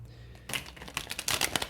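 Tarot cards are shuffled in a quick, faint burst of crisp riffling clicks that starts after a brief quiet moment and repeats rapidly until the end.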